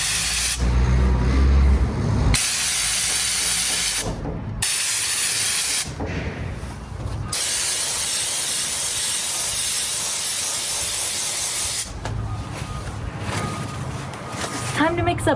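A spray gun sprays Raptor bed liner texture coat in long hissing bursts separated by short pauses, loud and close, with a voice talking over part of it.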